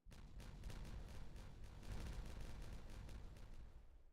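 Rumbling in-game detonations blow through an underground area, a dense run of boomy blasts and crackling impacts rolling steadily for a few seconds, loud and close with no talk.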